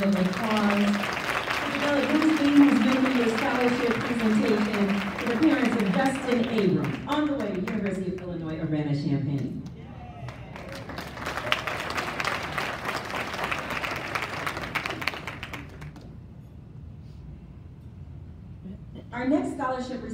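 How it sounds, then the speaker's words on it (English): Applause from an audience at a high school scholarship and legacy award ceremony breaks out midway as a dense burst of clapping lasting several seconds, following a stretch of a person speaking and fading before a brief final flurry. "Let's give them another round of applause."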